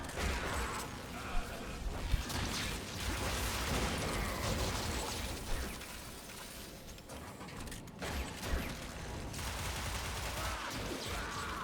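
Rapid, continuous gunfire from AKSTILETTO pistols in Warframe, with dense bursts of shots and mechanical clatter running throughout at moderate loudness, briefly dipping before resuming.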